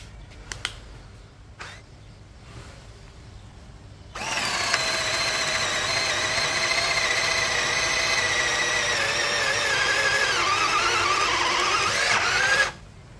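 NRT Pro DC320 cordless drill driver boring into wood at its second speed setting, a loud steady whine lasting about eight seconds that dips slightly under load before stopping, after a few faint clicks.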